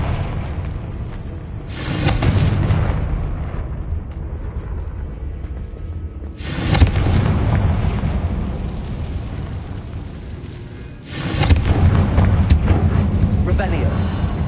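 Confringo spell explosions in the video game Hogwarts Legacy: three deep, booming blasts spaced a few seconds apart, each with a rumbling tail over a steady low background roar.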